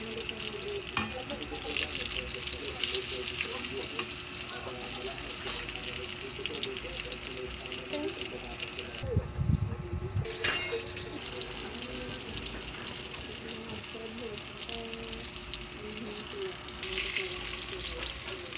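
Food frying in a pan, with a steady sizzle running throughout and a brief louder burst near the middle; a voice talks over it at times.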